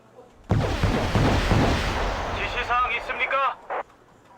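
Naval guns fire in a Wargame: Red Dragon sea battle, a sharp opening boom followed by a rolling run of heavy blasts and rumbling, then scattered whooshing shell sounds and a final short burst as it fades.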